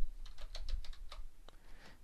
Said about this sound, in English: Let's type copyright